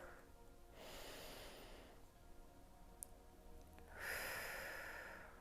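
Deep breaths during a morning workout relaxation exercise: a long inhale and later a strong exhale, close and fairly quiet with no talking.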